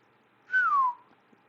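A single loud human whistle rises sharply and then slides downward, lasting about half a second against near silence.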